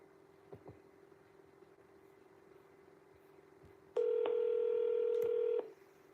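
A telephone call goes out with a quiet line hiss, a few faint clicks, then a loud steady ringback or signal tone for about two seconds before cutting off.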